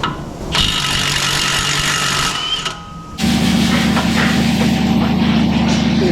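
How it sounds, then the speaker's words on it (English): A gray pneumatic impact wrench fitted with a 35mm impact socket, working on a Chevy Equinox brake job, runs in a steady loud whir, pauses briefly, then resumes with a heavier, lower-pitched sustained drone. "This will require the use of a gray pneumatic"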